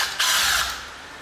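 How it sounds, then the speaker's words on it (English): A power drill or screwdriver whirs loudly and close up for about a second, backing out a small locking screw on a sliding window carrier, with a grinding, ratcheting texture and no talking. "So if we take our drill or a screwdriver,"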